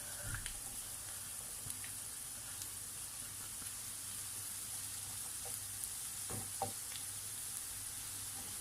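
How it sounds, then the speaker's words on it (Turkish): Onions and peppers sizzle steadily in a hot pan, a close, even frying hiss with a few soft clicks of stirring and no talking. "Güzelce kavrulan soğanımın üzerine biberleri ekliyorum."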